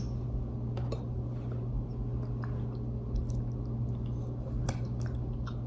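Someone chewing a pumpkin muffin close up, soft moist squishes and bites repeating over a steady low hum, with no talking.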